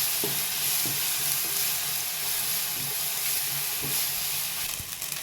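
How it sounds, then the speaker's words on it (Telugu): Onions with ginger garlic paste frying in a pan for mutton biryani, a steady loud sizzle broken by the scrape and knock of stirring. "దీంట్లోకి కొంచెం అల్లం వెల్లుల్లి పేస్ట్ వేస్తున్నామండి"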